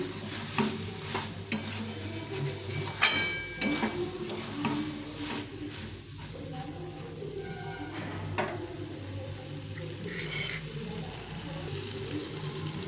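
Soybean chunks cooked with butter, garlic and onion paste are stirred in a pan: repeated spatula scrapes and metallic clinks over a faint, low sizzle, with no talk.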